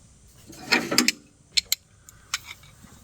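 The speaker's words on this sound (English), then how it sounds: "I brought 2 wrenches with me here to tighten this down with." Wrench tightening a lock nut onto a bolt: a quick cluster of metallic ratcheting clicks, then a few isolated clicks, close by with no talk.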